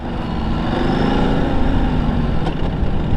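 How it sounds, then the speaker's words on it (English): Ducati Desert X motorcycle engine with a tappet-like ticking rattle, running steadily and loudly up close with rumbling exhaust and wind noise throughout. "There's a funny tittle tattle from the engine"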